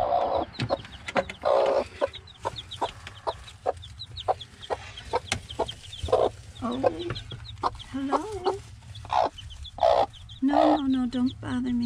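Hens cluck repeatedly in short, close bursts with a rhythmic, conversational pattern, some calls rising into longer drawn-out notes, over a low background hum.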